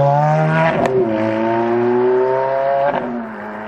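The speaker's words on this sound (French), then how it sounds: "Ferrari F430." A Ferrari F430 at a Paris rally event revs loudly and close, its engine note climbing and holding in a strong harmonic whine, with brief gear-change dips before trailing off.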